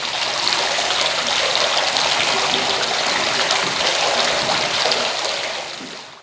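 Hot water pours into a vat of cheese curds after some of the whey has been drained off, during the making of Five Brothers artisan cheese. A loud, continuous gushing pour runs steadily and then tails off at the very end.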